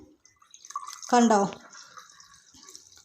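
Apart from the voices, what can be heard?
lime juice being poured into a glass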